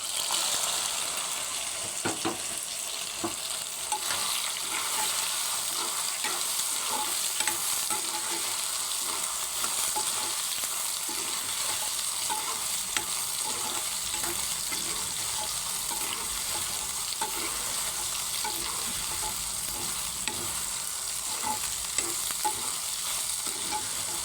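Soybeans fry in hot oil while being stirred, giving a continuous loud crackling sizzle with repeated scraping strokes close by, running on without talk.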